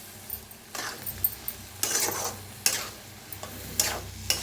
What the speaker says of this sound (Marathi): मिक्स करूया भाजीला.